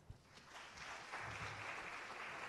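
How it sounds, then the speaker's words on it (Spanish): Welcoming applause for a speaker at a forum on low-carbon cities, a faint, distant crowd clapping that swells after a moment and continues steadily. "Da un aplauso de bienvenida."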